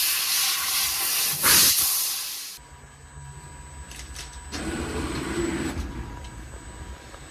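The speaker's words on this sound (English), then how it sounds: "Stainless steel laser cutting." Fiber laser cutting a stainless steel sheet on a small jewelry cutting machine gives a steady hiss, loud at first, then dropping to a quieter, even hum with a faint tone running through.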